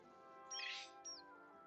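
A bird's screech in the Heartopia video game: two high, shrill squeals, the first longer and louder, the second a brief echo, over a faint sustained background music bed.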